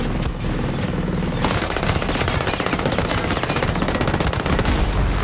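An M4A1 rifle fires in Ghost Recon: Breakpoint, with loud, rapid automatic shots running back to back almost without pause, as if emptying a full magazine close up.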